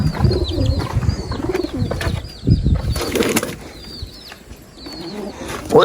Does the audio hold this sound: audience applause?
no